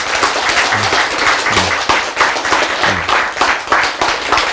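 Audience applause fills the room at a steady level, a dense wash of many hands clapping without pause.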